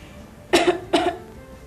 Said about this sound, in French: Tousse un peu.